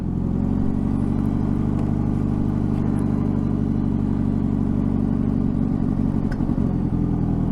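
A Wang motorcycle engine drones steadily and close up while riding, with a constant low rumble that sounds slightly laboured as it bogs down, running continuously without pauses.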